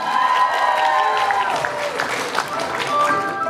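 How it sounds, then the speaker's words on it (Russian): An audience claps and cheers for a solo cosplay walk at a geek convention, with the applause building partway through over ongoing music and voices. "Ваши аплодисменты!"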